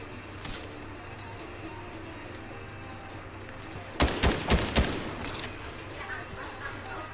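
Rapid bursts of video game gunfire, four or five sharp cracks close together, sound over a steady background hum in an Among Us session, with faint talk and noise before and after.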